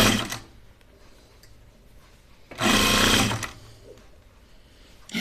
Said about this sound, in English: I do love sewing binding.